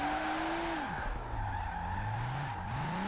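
A car drifts on a mountain road in Forza Horizon 4 without the handbrake, its engine droning steadily as the revs dip and climb, with tire squeal and skidding throughout, close and sustained.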